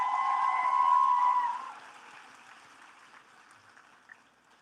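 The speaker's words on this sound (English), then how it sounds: "So let's give that a round of applause." Applause from a graduation ceremony crowd, a broad, dense clatter that holds steady for about a second and a half, then tails off into a quieter hall with scattered claps.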